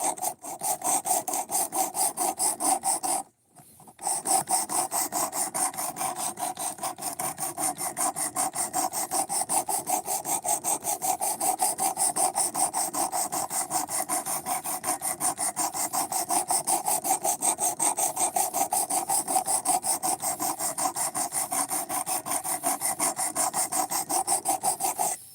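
A knife edge is worked on 220 grit abrasive, giving a steady, rapid back-and-forth rasping close up that runs almost continuously, with one short pause near the start.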